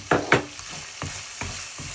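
Okra fries in a pan with a steady soft sizzle, broken by several distinct stirring scrapes and clatters that come at irregular intervals, close and clear with no talking.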